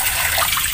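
Boiling water poured into a clogged kitchen drain, a steady close rushing gush of liquid, brief and continuous with no talking.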